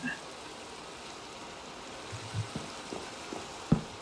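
Steady rain falls in the video game Minecraft, a soft, even hiss at low volume that lasts throughout, broken by a few faint thuds.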